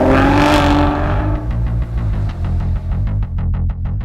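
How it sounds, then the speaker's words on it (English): The 12-cylinder engine of a 2015 Aston Martin Rapide S revs up loudly at close range, then falls back to a throbbing, pulsing idle that rumbles steadily to the end. "why not the harmony of a 12-cylinder engine?"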